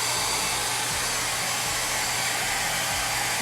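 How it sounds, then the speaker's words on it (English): A hair dryer blows steadily to dry chalk paste on an 18-inch gold frame, giving a loud, continuous airy roar with a low motor hum and no voices. "I'm gonna hit it with the hair dryer real quick"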